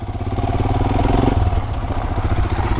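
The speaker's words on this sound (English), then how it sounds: "Get onto the motorcycle, hunt down something that makes you feel alive." A motorcycle engine runs steadily while the bike is ridden, loud and close. Its throbbing rumble holds level throughout, with some clatter mixed in.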